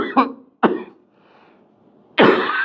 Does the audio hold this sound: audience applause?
no